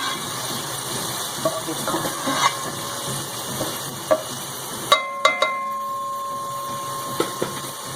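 Onions browning in a pan for chana dal gosht, a steady close sizzle with occasional sharp clinks and scrapes of stirring, no talk.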